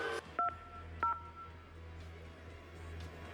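Several short telephone keypad dialing tones ring out one at a time with gaps between them, set over steady low room hum and no talk.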